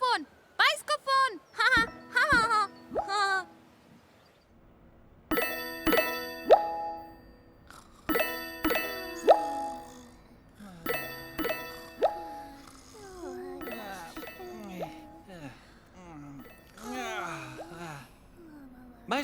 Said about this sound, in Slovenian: Potem je Lili slišala zvonjenje. Bil je bajskofon.